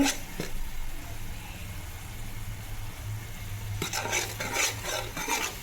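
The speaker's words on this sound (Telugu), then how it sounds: "వెల్లుల్లి పేస్ట్ వేసేసామండి ఇప్పుడు కలిపేసుకోవాలి" Garlic paste being stirred in a pan for fish curry, a soft, steady scraping and sizzle close by, with sharper stirring and clinking toward the end.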